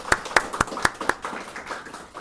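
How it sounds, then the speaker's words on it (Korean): A church congregation claps in a burst of sharp, evenly spaced claps that soften into scattered, fainter applause, heard close with no talking. "우리 박수로 축하하도록 하겠습니다"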